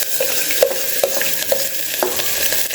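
Cumin, asafoetida, curry leaves and ajwain sizzling in hot oil with onion, a steady close crackle punctuated by several sharp stirring clinks of a utensil against the pan.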